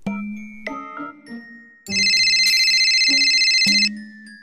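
A synthesized ringtone plays in the video game Sakura School Simulator: a short descending melody of bright tones, then a loud, sustained chiming ring, then the melody again, loud and close, with no talk.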